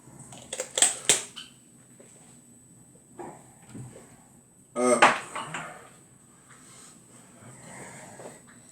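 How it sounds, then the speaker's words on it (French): A utensil stirs food seasoned with parsley persillade in a pan, giving a few sharp metallic clinks and scrapes in two bursts, the louder one midway, with quiet gaps between. "Et on revient mélanger encore"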